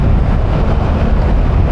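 A 2024 BMW R1300 GS motorcycle with ASA automatic gearbox pulls hard on an open road, its loud engine roar blending with strong wind buffeting across a brief, constant burst.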